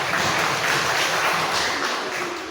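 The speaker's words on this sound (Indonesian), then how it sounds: "Boleh dong kasih tepuk tangan." An audience at a church event claps steadily, a dense wash of applause that holds for a couple of seconds before tapering slightly.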